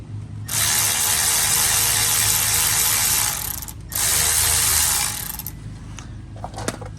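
A ratchet zips off the brake caliper bolts on a 2008 Honda Civic during a pad and rotor job, in two loud, rapid clicking runs close by: a long one, a short pause, then a shorter one.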